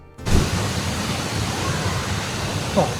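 A 23-meter waterfall in Seogwipo on Jeju Island, South Korea, a loud, steady rushing roar of falling water that starts abruptly and continues unbroken, with a brief bump near the end.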